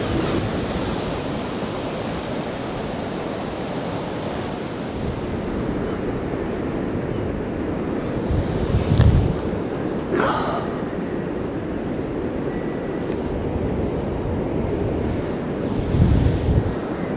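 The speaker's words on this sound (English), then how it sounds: "So all that energy, the waves, finding it quite difficult to compose something" Steady roar of ocean surf with gusting wind buffeting the microphone, waves swelling and crashing at intervals, continuous and fairly loud.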